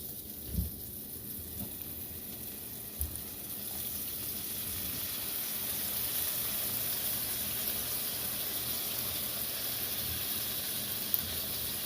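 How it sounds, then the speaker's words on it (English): Steady frying sizzle of deer meat in a pan with a constant hiss, close by, with a few soft clunks early on and one small pop near the end. "once you get it to where it's sizzling, start throwing in your slab."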